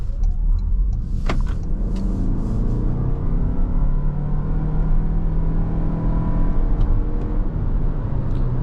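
A 2026 Toyota RAV4 with its standard powertrain accelerates in a steady, loud, continuous rumble from inside the cabin, the engine and road noise building over several seconds with no talk.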